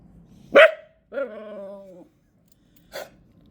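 A puppy named Bandit lets out a sharp bark, then a longer whining yelp, followed after a pause by another short bark, close and fairly loud in a quiet room.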